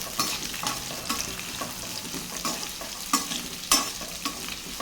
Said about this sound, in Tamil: வெங்காயம் வந்து நல்லா வதங்கி வரட்டும்.